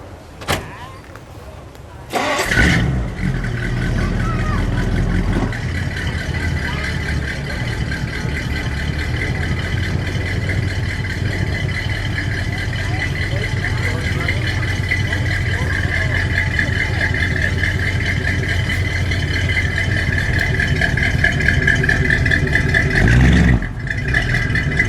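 A 1956 Plymouth Fury two-door hardtop in eggshell white cranks after a brief pause and settles into a steady, loud, close idle that runs on for over twenty seconds, with a faint voice underneath.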